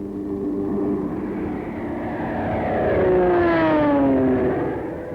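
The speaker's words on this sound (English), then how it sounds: "the carrier planes continued to press the attack" World War II carrier planes press an attack on Formosa, their propeller engines droning loudly and swelling as they pass close by, with a falling pitch as they sweep past.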